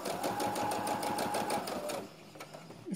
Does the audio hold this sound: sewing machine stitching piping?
yes